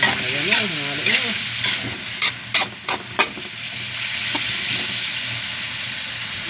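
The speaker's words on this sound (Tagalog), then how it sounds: "Halo-haloin natin. Ayan na, halo na." Chop suey vegetables, including carrots, broccoli and beans, stirred in a hot pan outdoors on a rooftop: loud continuous sizzling with a run of sharp utensil clacks against the pan, and a brief whistling tone near the start.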